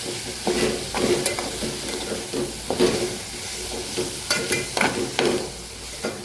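Chopped onions are stirred in a hot frying pan, with a steady sizzle broken by repeated scraping strokes of a spoon against the pan and no talking.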